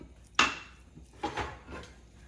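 A metal lid is set onto a canning pot on a stovetop, giving one sharp clank followed by a few softer clinks and scrapes close by, with no talk.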